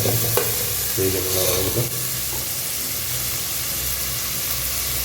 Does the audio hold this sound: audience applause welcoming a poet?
no